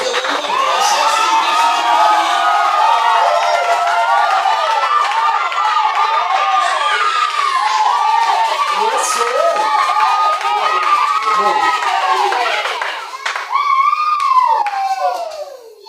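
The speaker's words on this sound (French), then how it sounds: "Est-ce que tu peux exagérer avec des acclamations?" A church congregation cheering loudly, with high shouts, whoops and cries layered over clapping throughout, dense and close, surging near the end.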